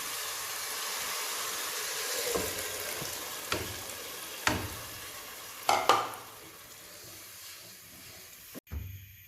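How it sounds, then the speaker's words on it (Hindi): Boiled black-eyed beans (lobia) tip into hot masala and are stirred, giving a steady close sizzle and hiss with a few sharp scraping knocks of the spoon in the pan, ending in a louder clatter. "अब हम इसमें उबला हुआ लोबिया ऐड करेंगे जो पहले से उबाल के रखा हुआ था।"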